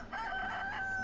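A rooster crowing in the video game DayZ, one loud, close, sustained crow that fills the whole moment with no talk.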